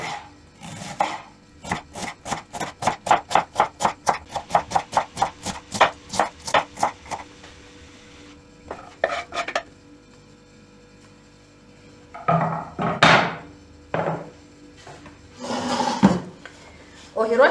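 Cabbage for a winter cabbage and cucumber salad is sliced with a knife on a cutting board, a fast even run of close crisp chops followed by a pause and a few scattered cuts and clatters.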